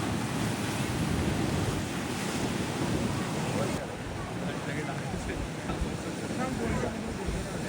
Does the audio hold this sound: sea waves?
yes